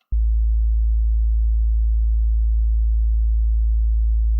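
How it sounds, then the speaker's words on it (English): A steady, pure low sine-wave tone from a synth in Logic starts abruptly and holds at constant loudness for about four seconds, clean and alone, with no other sounds. "here's my sine wave again"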